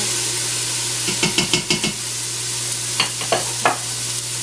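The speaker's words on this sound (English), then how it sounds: "It's saying hot on the display, so I'm going to add the onion." Chopped onion dropped into a hot Instant Pot on saute, a steady loud sizzle with a quick cluster of scraping stirs, then a few more stirring knocks.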